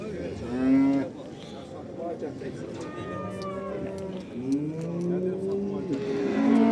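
Cattle low repeatedly at a livestock market in Ganja, with several long drawn moos close by over a background of crowd voices and market bustle.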